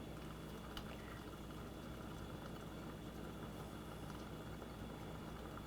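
A stovetop espresso pot brews with a faint, continuous bubbling and gurgling hiss that holds steady throughout, heard quietly up close with no voices.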